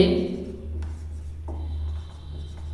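Chalk or pen writing on a board while working through linear equations in two variables, a few soft scratchy strokes over a low steady hum, with a voice briefly heard at the start.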